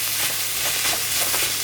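Steady sizzle of ingredients being sautéed in a pan for Tamil-style chicken green curry, continuous and close, with faint stirring scrapes and no talking.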